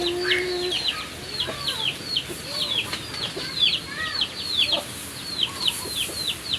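Chickens in a coop during heavy rain, with repeated clucks and short calls over a steady wash of rainfall. A brief higher call comes early, and scattered wing flaps can be heard.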